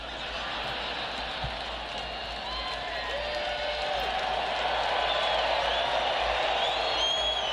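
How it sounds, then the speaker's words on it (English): A large crowd cheers, whoops and applauds loudly in a steady, sustained roar with shrill shouts rising above the clapping, building slightly toward the end. "the crowd going wild here"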